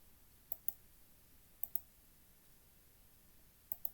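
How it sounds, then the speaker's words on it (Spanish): Three pairs of sharp computer mouse clicks, evenly spaced, used to type on an on-screen virtual keyboard, close and crisp against a quiet background with no talk. "vamos a escribir aquí, teclado virtual"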